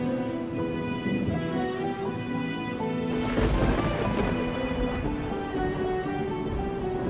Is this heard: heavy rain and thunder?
yes